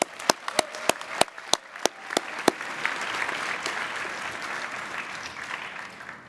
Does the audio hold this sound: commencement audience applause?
yes